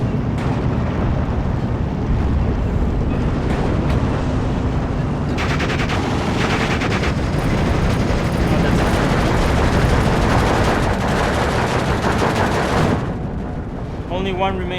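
Dense gunfire and explosions crackle through a World War II style video game battle with Panzers and anti-tank guns, loud and continuous with heavy booms, under a commentator's excited talk.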